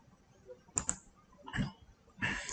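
A few sharp, sparse computer mouse clicks sound close and quiet while someone works in school ERP admissions software, with short pauses between them and no talk.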